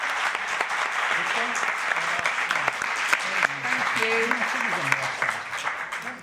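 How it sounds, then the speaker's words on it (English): Sustained audience applause for four panellists at an EU conference on overfishing, a dense crowd of claps filling the room for about six seconds, with a little voice murmuring faintly underneath. "a very big round of applause to these 4 panellists, please, for coming here."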